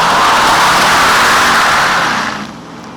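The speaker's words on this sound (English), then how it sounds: "we are driving the E55" A Mercedes E55 AMG drives on a road with a loud, close, steady engine and road roar that eases off slightly near the end.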